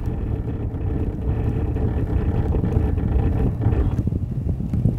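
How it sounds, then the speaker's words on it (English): A truck braking on an icy mountain road near Knoxville and Murphy, North Carolina, with a steady low rumble of tires and engine, plus wind buffeting throughout. There is no clear skid burst and no talk. "if I hit the brakes, it's just gonna keep making that noise"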